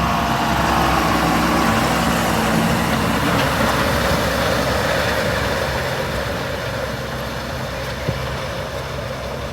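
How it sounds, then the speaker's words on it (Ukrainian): A tractor pulls a 4-metre Amazone D9 seed drill sowing rapeseed in a field. Its engine makes a steady, loud, low rumble with broadband mechanical noise throughout, with a single brief knock near the end. "Ось приїхали цю сівалку запускати в роботу Амазонку 4-метрову."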